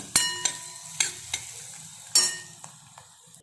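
Chili powder and turmeric sautéed in a pan, a spoon stirring with sharp scraping strikes at irregular intervals over a steady low sizzle, close and fairly quiet.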